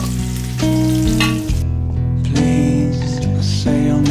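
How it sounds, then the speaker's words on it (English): Peppered sirloin steak sizzles in a hot pan turned down to medium heat, a steady hissing fry that runs beneath louder background music. "Now I have a sizzle and no splatter."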